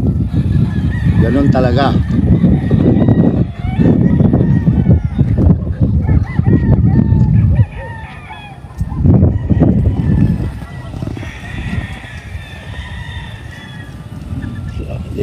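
Chickens on a large breeding farm cluck and crow, with a rooster and honking fowl mixed into a busy barnyard din, while someone talks over the birds.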